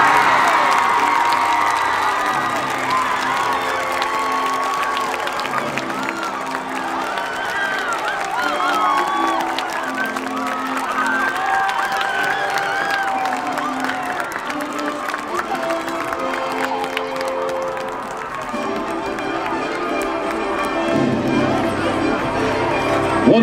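A crowd cheers and applauds the AC Reynolds High School marching band, crowned 2024 grand champion at the North Henderson Knight Tournament of the Bands, with sustained clapping, shouts and whoops rolling on for over twenty seconds.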